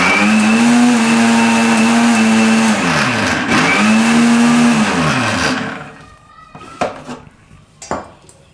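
A mixer grinder powders dried drumstick leaves: a loud, close motor whir that rises and dips in pitch over two pulses, then cuts out, leaving a few light clatters.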